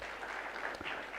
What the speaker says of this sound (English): Cooperative University, can we clap for them?